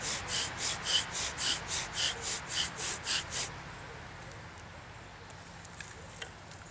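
A wooden bow drill spindle rubs against a hearth board in about a dozen even, rhythmic long strokes, close and steady, before stopping into near silence.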